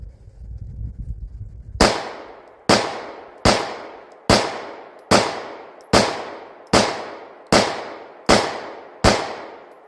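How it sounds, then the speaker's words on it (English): Ten evenly spaced pistol shots from a Bul Armory Tac Pro 4.25 at an outdoor range, each a sharp loud crack with a decaying tail, fired in a steady rhythm about one per second after a short low rumble. "I'm going to move over to this other target and put 10 rounds in the head."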